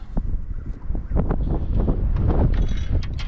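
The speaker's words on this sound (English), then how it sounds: "Man, it is windy today." Strong 40 mph Texas wind buffets the microphone in heavy, continuous gusts while fishing, with a few faint clicks and knocks underneath.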